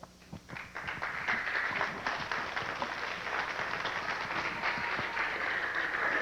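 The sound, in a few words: audience applause at a rally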